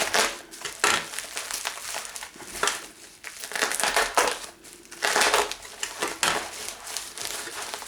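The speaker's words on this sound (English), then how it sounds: "I'll see if I can cut the tape off without marking the revolver up." Tape is cut and peeled off a bubble-wrapped revolver package, giving irregular crackling, crinkling bursts of plastic and bubble wrap up close, with brief pauses between handling noises.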